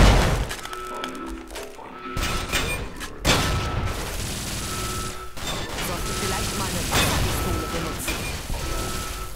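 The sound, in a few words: gunshots in a video game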